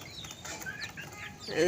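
Soft clucking from young chicks, a few short calls scattered over a quiet background, fairly close.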